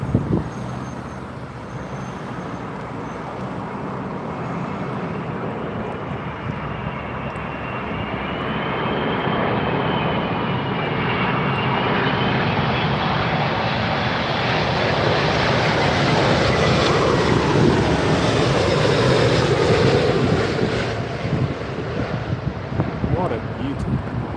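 A fixed-wing airliner landing on runway 27R at London Heathrow roars in loud and close for the whole stretch, its engine whine swelling and sliding in pitch as it passes, with wind buffeting the microphone.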